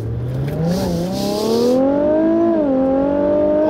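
A 2016 Infiniti Q50 Red Sport 400 accelerating hard, its engine note climbing steadily in pitch with a brief dip at a gear change, loud and close from inside the car, with no talking.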